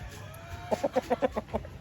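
A rooster about three or four years old, kept for breeding, gives a quick run of about seven close, clear clucks in an even rhythm.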